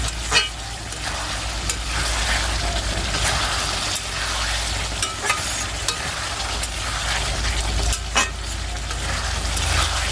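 Masala being sautéed in a pan for fish curry, ground spices from a grinding stone and mixer, giving a steady close sizzle with occasional scraping stir clicks throughout.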